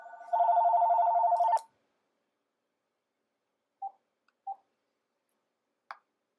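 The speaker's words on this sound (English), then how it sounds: "Sorry for the phone ringing again." A telephone bell rings in one sustained burst at the start, nearby and alone, followed by a few short, faint clicks and taps in otherwise quiet surroundings.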